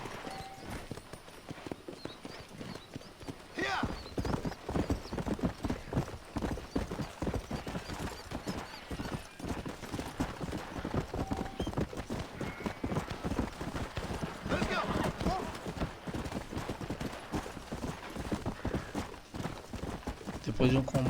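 A horse in Red Dead Redemption trotting, with rapid rhythmic hoof clip-clops that continue steadily for most of the span, plus a brief whinny. Someone talks over them in places, and game ambience sits underneath.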